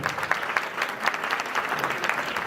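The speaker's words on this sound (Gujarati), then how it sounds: "આપણે જોરદાર તાળીઓ પાડીને વધાવીએ." An audience at a school teachers' award ceremony claps in a steady, even burst of applause, moderately close and sustained for a couple of seconds with no talk.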